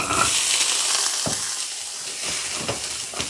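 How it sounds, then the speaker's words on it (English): Steady, bright sizzling of vegan balls frying in a hot pan, close up, with occasional soft scrapes and stirring sounds. "So you start by frying 400 grams of already made vegan balls"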